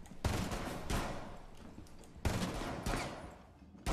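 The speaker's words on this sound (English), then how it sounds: "Who's shooting a pistol?" Gunfire in the online shooter Rainbow Six Siege, with pistol shots coming as several sharp bursts of reports separated by short gaps, at moderate loudness and with no talk over them.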